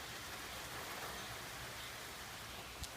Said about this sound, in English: It's already fucking raining.